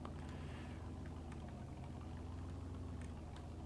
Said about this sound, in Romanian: Ce fain întoarce motorul.